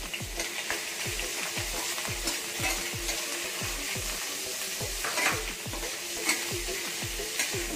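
Shrimps or prawns sizzle in a hot, oiled wok for pad Thai, a steady close frying hiss broken by regular scraping strokes of a spatula roughly every half second, with no voices.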